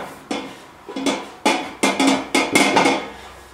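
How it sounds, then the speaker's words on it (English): A stainless steel sausage stuffer is tapped and handled, giving a series of about eight sharp metallic knocks and clanks at irregular intervals, close and fairly loud with nothing else behind them. "It's all stainless steel construction, which is for easy cleaning. Give it a tap, it falls down, and you load your sausage into here."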